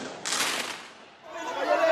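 Fireworks set off by protesters at police during street unrest in Nanterre, France: one sharp loud burst with a crackling tail, then a rising hiss as another launches, with a voice talking over it.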